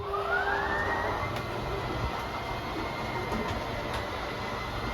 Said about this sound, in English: Your slide out is on this switch here, press and hold out, and that slide will make its way out.